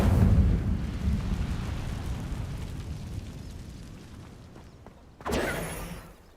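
Incendio fire spell cast in Hogwarts Legacy, a loud whooshing fiery burst that rumbles and fades over several seconds, then a second sharp blast near the end.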